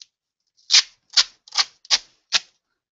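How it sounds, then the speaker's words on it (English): Duct tape strips being applied and smoothed around the outside edge of a school binder, heard as five short, crisp rubbing swipes at a steady pace, close and clear with no talk. "put another strip of duct tape all the way around the outside edge"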